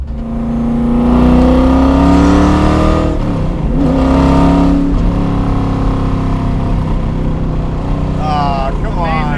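A 550 hp C3 Corvette track car revs hard close by, its loud engine note climbing and falling in several surges and then settling into a rough, lumpy idle, with a brief higher whine near the end.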